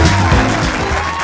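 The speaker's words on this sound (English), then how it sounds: "Thank you so much for the applause." A studio audience claps and cheers at the close of an animated comedy talk show, a short, loud burst of dense applause with crowd noise.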